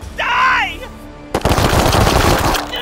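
Loud burst of rapid gunfire in the video game Warhammer 40,000: Chaos Gate - Daemonhunters, a sustained crackling volley following a brief synthetic whine, with a voice talking briefly before it.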